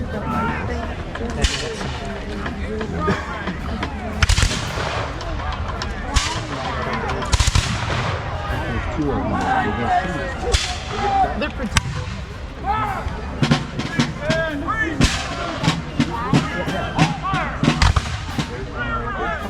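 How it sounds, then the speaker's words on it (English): Reenactment troops at a Memorial Day weekend Revolutionary War rendezvous in Vincennes, Indiana fire musket volleys by division, with repeated loud cracking volleys and scattered shots spread through the clip, crowd murmur behind them and people talking. "You see the Crown forces also firing by division, so that one division will fire and then reload, and then the next can fire"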